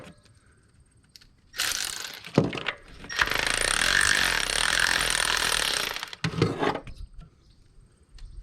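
A ratchet cranks down a valve spring compressor on a common rail 5.9 24-valve Cummins engine, giving a loud close burst of rapid mechanical clicking, a brief pause, then a longer sustained ratcheting run and a short final burst.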